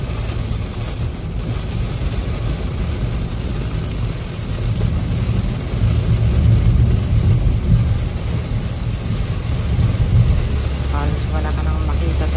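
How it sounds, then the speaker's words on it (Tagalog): Heavy rain pours steadily over a car driving home from Orlando, a dense, loud continuous roar of rain and road noise with a low rumble throughout. "Sobrang lakas ang ulan."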